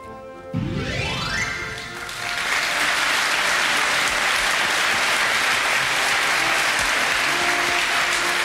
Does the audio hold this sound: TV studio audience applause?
yes